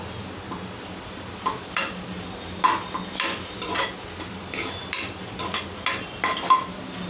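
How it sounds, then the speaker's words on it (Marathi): A spatula stirs fresh grated coconut roasting in ghee in a pan, making a steady run of dry scraping strokes about every half second, close and distinct with no talking. "तर ओलं खोबरं थोडस परतून घ्यायचं आहे"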